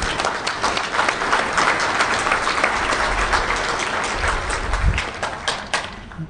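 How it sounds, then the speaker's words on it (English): An audience at a DEFCON hacker conference talk bursts into dense, sustained applause, many hands clapping together in a lively roar that fades slightly toward the end. "if we could just like clap for Artem right now, it's pretty cool."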